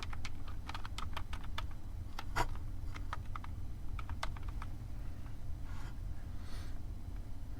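A name typed on a computer keyboard while setting up a storage pool on Windows Server 2012 R2, a quick run of close, crisp key clicks with short gaps, steady and alone over faint room hum.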